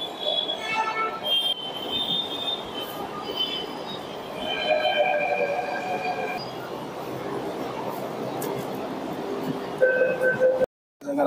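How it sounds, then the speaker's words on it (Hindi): A Jaipur Metro train rumbles into a station with metallic wheel squeals and tonal screeching over steady rolling noise, ending with a brief cut. "फाइनली आ गई अपनी मेट्रो"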